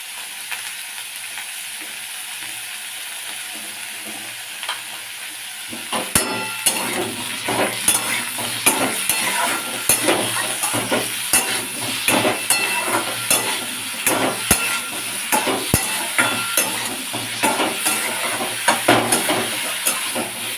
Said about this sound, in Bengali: সবজি আবার হালকা করে ভাজা হয়ে গেছে